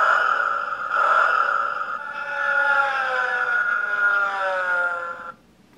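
Electronic melody from the gear shifter toy on a Delta Children's Lil' Drive baby walker, a bright beeping tune with sliding siren-like tones, loud and alone, cutting off abruptly at the end.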